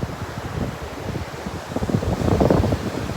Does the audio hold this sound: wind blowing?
yes